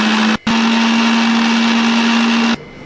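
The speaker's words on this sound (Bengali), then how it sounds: "পাউরুটিগুলো ভেজে রেখেছিলাম, এবার আমি মিক্সারে ভালোভাবে পিষিয়ে নেব।" Electric mixer grinder pulverising fried bread slices, a loud steady motor whir running close, briefly cutting out early on, then stopping near the end.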